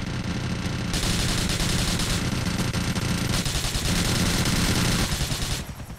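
Sustained automatic gunfire from the video game GTA IV rattles in long, loud bursts, with dense rapid shots and brief pauses between volleys.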